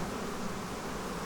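Honey bees on a brood frame lifted from a hive give a continuous close, even buzzing drone with no pauses and no speech.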